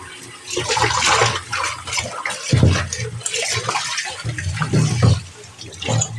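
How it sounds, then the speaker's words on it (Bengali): Running water splashes steadily into an iron wok being scrubbed clean, with rushing and clattering bursts throughout, close and fairly loud. "বেশ অনেকটা জল দিয়ে কিন্তু ধুয়ে দেবো"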